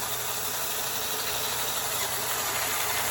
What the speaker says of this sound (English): Here's the differential in action.